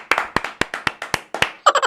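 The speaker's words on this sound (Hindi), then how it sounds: "तो सभी लोग तालियां बजाएं।" An audience claps for Golu, a child from the neighbourhood about to recite something at a comedy skit. About ten distinct claps fall in a loose, even rhythm, close and fairly loud, with no talking over them.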